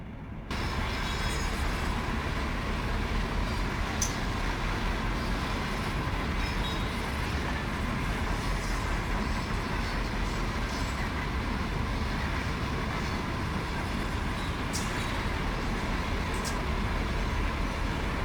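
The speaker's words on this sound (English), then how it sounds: "I think that's the Amtrak coming up over here on the left" Steady, loud rumble of an Amtrak train rolling past in the Run 8 train simulator on Cajon Pass, a continuous wheel-and-rail drone that holds evenly throughout with a few faint clicks on top.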